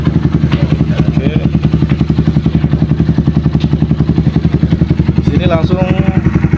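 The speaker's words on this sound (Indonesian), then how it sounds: "Lalu kita nyalakan mesin." A Honda CBR150R motorcycle engine idling steadily up close, an even rapid pulsing with no rise or fall, loud and alone apart from a brief faint sound near the end.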